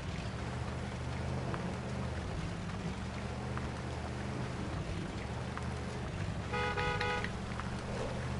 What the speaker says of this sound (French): Ça faisait longtemps que j'avais klaxonné.